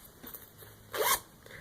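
A zipper on a fabric clutch is pulled in one quick, close rasping stroke of about a quarter second, set against quiet room background with faint handling noises.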